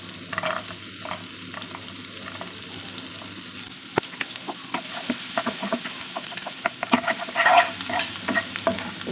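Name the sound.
garlic frying in butter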